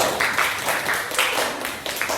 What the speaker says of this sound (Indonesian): Beri tepuk tangan untuk teman kelompok 1.